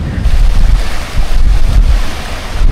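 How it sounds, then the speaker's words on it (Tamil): Strong cyclone wind roars in Sri Lanka, buffeting the microphone close up with loud, continuous rushing and surging gusts, and no one speaks. "எப்படி காத்தடிக்குது"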